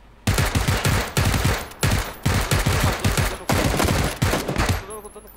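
Rapid bursts of automatic gunfire in the PUBG battle royale game, loud and close, firing in repeated volleys with short pauses between them.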